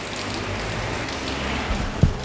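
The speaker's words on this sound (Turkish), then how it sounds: "Ha böyle yağmur yağıyor" Steady rain hisses evenly throughout with no talking, and a single soft thump lands near the end.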